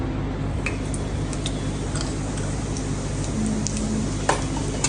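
Cumin seeds sizzle in oil inside a pressure cooker with a constant crackling hiss. Scattered small ticks and pops rise above it, and no one speaks.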